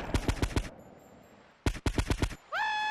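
Two bursts of rapid automatic gunfire in GTA Vice City Stories, loud and sharply repeating, separated by a short quiet gap and followed by a rising tonal game sound.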